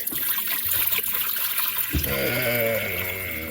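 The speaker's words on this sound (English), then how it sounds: "we're going to go ahead and fill it up to this wire rack with the water" Water pours into an Instant Pot's inner pot up to the wire rack, a soft trickle that turns into a clear filling tone whose pitch climbs steadily as the level rises. It sounds close and steady.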